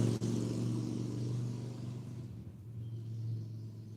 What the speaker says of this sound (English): you're always going to hear traffic come through by me